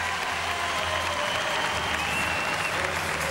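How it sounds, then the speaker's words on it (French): Sustained loud crowd applause fills an arena after a gymnast's Tsukahara vault at an artistic gymnastics competition, steady clapping throughout. "Et bien entendu, il est très applaudi, Fabian Anpuren"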